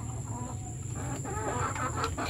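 Hens in a farm flock being conditioned cluck softly and intermittently against a steady background hum, faint and fairly distant, with no voices.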